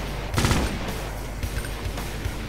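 Rapid automatic gunfire from the Brutal Doom video game: a loud burst of closely spaced shots early on, followed by fainter scattered pops and rumbling against a dense, noisy game background.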